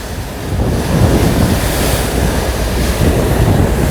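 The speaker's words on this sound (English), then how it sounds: "I hope that wind isn't too strong." Wind and surf roll in outdoors on a gray morning as the sun comes up: a dense, continuous roar of breaking waves mixed with buffeting wind noise on the microphone, loud and unbroken, with no voices.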